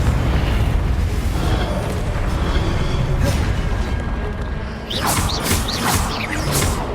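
A Confringo explosive spell fires in Hogwarts Legacy on PS4, sending a burst of booming blasts and crackling impacts over steady game noise, with a cluster of sharp bright pops near the end.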